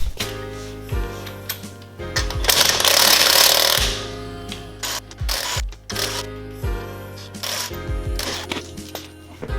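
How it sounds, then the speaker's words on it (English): A beefy half-inch DeWalt impact wrench rattles lug nuts off a car's wheel in loud, chattering bursts, one sustained for about two seconds among shorter stuttering runs, with clanks of parts between. "I am using an impact just to rattle these lug nuts off"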